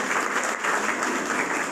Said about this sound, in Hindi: तो जबरदस्त क्लैपिंग चाहता हूँ सारे इस कंपनी के